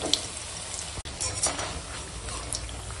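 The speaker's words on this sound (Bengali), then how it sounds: "কড়াই তেল দিয়ে দিচ্ছি, তেল গরম হয়ে গেছে, বড়িটা দিয়ে দিলাম, দিয়ে এখন বড়িটা ভেজে নেব" Lentil dumplings (bori) fry in hot oil in a wok, giving a loud continuous sizzle with crackling pops, close up, briefly cut by a short break near the start.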